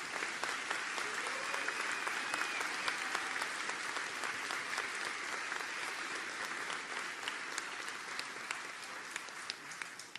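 Steady applause from a convocation audience at the Lowenberg College of Nursing, honoring standing nursing graduates; continuous, even clapping heard from a distance, filling the room without a break for about ten seconds.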